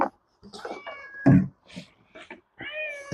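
A house cat meows in a garden, several short separate calls with gaps between, close by and fairly clear, with a person's voice nearby.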